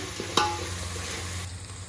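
Ground coconut paste fries in a pan for chicken gravy, giving a low steady sizzle with occasional stirring scrapes and one sharp clink near the start.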